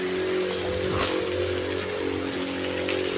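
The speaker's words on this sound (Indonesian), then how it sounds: "Ini kerjaan kita nih udah terbantu sama hujan, jadi nggak perlu basahin jalan lagi." Steady rain falling on a street, a constant dense hiss with a low engine hum and passing traffic underneath.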